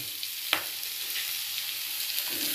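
Chopped tomato and onion frying in a pan with a little salt and turmeric, a soft steady sizzle with a few light clicks of stirring, heard alone and fairly quiet.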